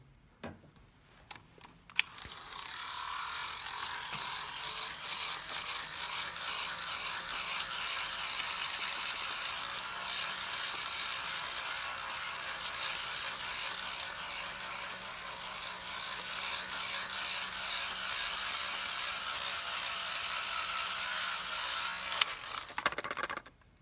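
An electric lint shaver runs across a freshly printed shirt, a steady close buzzing drone lasting about twenty seconds, framed by a few clicks as it switches on and off.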